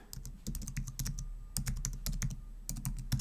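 Fast typing on a computer keyboard entering a team name in Stata, a close, continuous patter of clicking keys in quick bursts with no speech.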